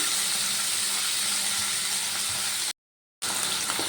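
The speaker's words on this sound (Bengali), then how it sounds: "এবার আমি পনিরগুলো ভেজে নেব খুব বেশি কড়া করে ভাজবো না" Paneer pieces frying in hot mustard oil give off a loud, steady, hissing sizzle throughout, broken only by a brief gap of silence.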